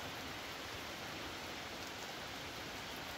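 Heavy rain pours steadily onto a lean-to shelter at a campsite, a dense, unbroken hiss that stays constant throughout with no voices.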